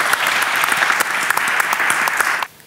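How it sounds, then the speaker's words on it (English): An audience at a privacy workshop panel discussion applauds a panelist as he is introduced, a close, steady burst of clapping at even loudness that cuts off sharply near the end. "Give him a round of applause."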